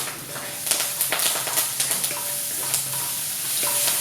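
Red onions and curry leaves sizzle in a pot, making a steady close-up frying hiss. Rhythmic stirring taps and scrapes run through it, and no one talks.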